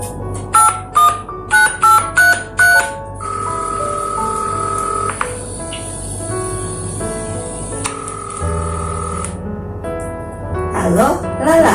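Telephone being dialed, a quick string of separate key-press tones, followed by a sustained electronic ringing tone that holds for several seconds before fading, with light background sounds.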